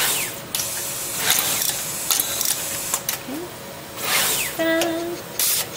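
Adafruit pick and place machine running, giving off repeated short mechanical whirs, clicks and ratcheting bursts of motor movement at close range over a steady hum, with no talking.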